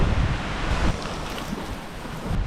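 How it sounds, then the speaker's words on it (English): Strong gusts batter the microphone outdoors at a fishing and cooking camp, a loud, continuous rumbling roar that swells and eases, with no talking. "This wind is wicked."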